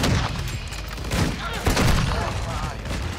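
Rapid gunfire from a sniper rifle in Call of Duty MW2 on the Shipment map, loud bursts of shots packed densely across the whole stretch with a dense, booming edge.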